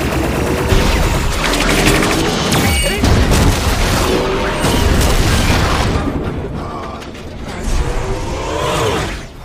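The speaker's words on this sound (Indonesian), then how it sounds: "mereka dibombardir oleh pesawat tersebut yang memiliki tembakan plasma" Loud sci-fi aircraft plasma fire and booming explosions roar in a dense, chaotic barrage, with crackling, mechanical rattles and rumbling blasts throughout.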